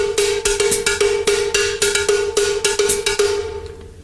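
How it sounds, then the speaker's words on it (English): A cowbell rings out a fast syncopated Latin pattern, bright metallic strikes in a steady groove played close and loud, fading away at the end. "let's play a Latin part on the cowbell, something like this."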